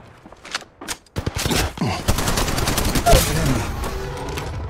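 Gunfire in the Apex Legends Mobile video game comes as scattered single shots, then turns into dense, continuous bursts mixed with impacts and game voice chatter.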